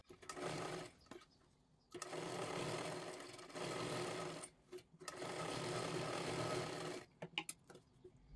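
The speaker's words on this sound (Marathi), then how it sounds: "आता इकडची बाजू आपल्याला शिलाई करायची आहे." Close, loud whir of a sewing machine stitching a 42-size katori blouse, running in several sustained bursts of a few seconds each with short pauses between, no talking.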